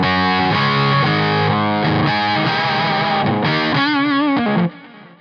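Electric guitar on the bridge pickup through a Smart Belle Golden Armadillo pedal into a Smart Belle Wolfhound amp: loud, distorted chords and sustained notes ringing out with vibrato, then a sudden cutoff near the end.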